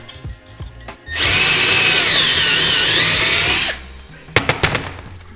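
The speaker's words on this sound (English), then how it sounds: "It's time to start stepping this hole up. Start with 3/8 and work our way up to just almost 1/2 inch." A drill bores through an aluminum dirt bike engine case, a loud steady whine running about two and a half seconds, then stopping, with a few sharp knocks and clatters after.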